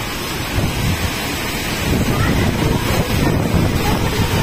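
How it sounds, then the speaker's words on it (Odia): A severe storm with heavy wind and rain roars outdoors as a loud, continuous, rumbling wash buffeting the microphone, with no clear thunderclap standing out. "ପୁରା ବାତ୍ୟା ପ୍ରବଳ ହେଇଗଲା"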